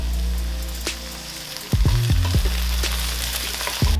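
Celeriac and diced apple frying in a pan with softened onions, a steady close sizzle that swells as the pieces are tipped in, with clattering taps from the pan and utensils.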